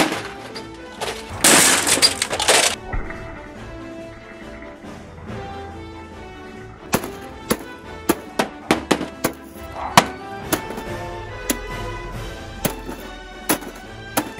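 An Xbox 360 part is smashed apart, starting with a harsh crunch of breaking plastic and glass, then a long run of sharp, uneven thuds and cracks from repeated hits, close and loud with no talk.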